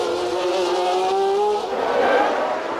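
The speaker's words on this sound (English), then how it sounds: "So now Nelson Piquet in the white and blue Brabham is on his way." A white and blue Brabham Formula One car at the 1981 US Grand Prix West screams past with a high, rising engine note that climbs through gears, loud and close, then fades into crowd and track ambience.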